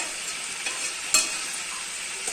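Chicken is sautéed and stirred in hot oil in a pan, cooked without masala, with a steady close-up sizzle and an occasional sharp scrape of the spoon.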